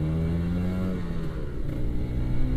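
A Kawasaki Ninja RR motorcycle revs and accelerates on the road, its engine droning steadily with rising pitch and growing louder toward the end, close and continuous with no talk.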